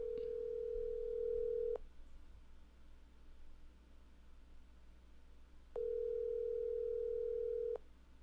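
A phone call rings out unanswered: two long steady ringback tones about two seconds each, separated by a few seconds of quiet line hiss, with no voices.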